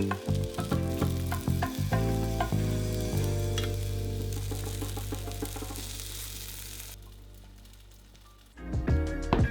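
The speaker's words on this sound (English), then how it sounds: "put them on a frying pan and warm them up" Filled crepe rolls warming in a frying pan, a steady close sizzle running throughout with scattered crackles and a few soft scraping stirs near the start and end.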